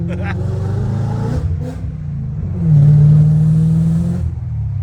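A BMW M5 E39 engine revs hard through a resonant exhaust, with a rising roar that swells and holds loud near the mic after a brief idle-like throb.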